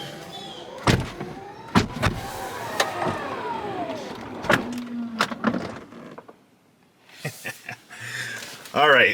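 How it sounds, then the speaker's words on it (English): Doors on a 2025 Tesla Model X closing automatically, with soft motor whines and clunks rising between stretches of someone talking, and a closer mechanical burst at the end. "do I want to go and close all the doors? No. Well, not one by one."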